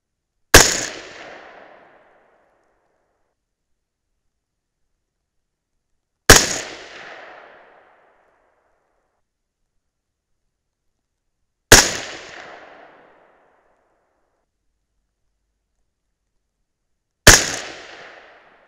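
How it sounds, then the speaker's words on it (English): A 6.5 Grendel rifle fires 120 grain Hornady ELD Match bullets in four loud, sharp reports spaced about five to six seconds apart, each with a short decaying echo and no talking. "Let's see if these 120 grain ELD match bullets will shoot."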